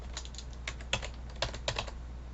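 Code being typed on a computer keyboard: a short run of light, irregular key clicks, a few sharper taps standing out, close and fairly quiet over a low steady hum.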